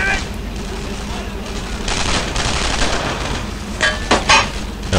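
Loud, dense gunfire and rifle cracks in a World War II shooter, Brothers in Arms mission 'Buying the Farm', set June 9, 1944, with a burst of sharper close shots near the end and voices shouting in the mix.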